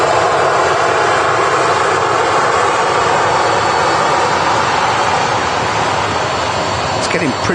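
A plane arriving at Manchester Airport roars loudly and steadily with a broad engine rumble and whine, while voices speak faintly underneath.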